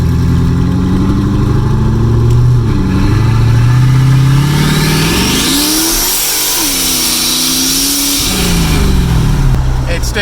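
Wife's red Corvette engine running and revving while warming up, loud and close, with rising and falling revs and a turbo whine climbing higher; a voice speaks briefly over it.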